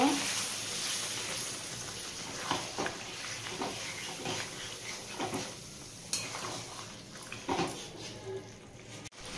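Hot water is poured bit by bit into mutton cooking in a pot for a Dakbungalow-style curry, bringing a low hiss and sizzle with scattered clinks and scrapes of a spoon against the pan, steady and moderately close.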